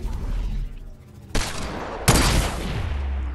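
Two loud, sharp Desert Eagle pistol shots fired in a first-person shooter video game, the second a little louder, each with a booming tail, over a background of game ambience and no speech.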